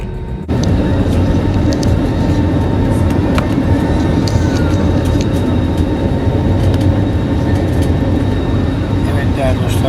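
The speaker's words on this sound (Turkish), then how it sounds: "şu anda Stockholm Alabama Havalimanı'ndan uçağımız havalanmak üzere" An airliner takes off from the runway at Stockholm Arlanda Airport, bound for Sabiha Gökçen. After a brief quiet start, a loud, continuous roar of engines and rolling fills the cabin, with faint voices underneath.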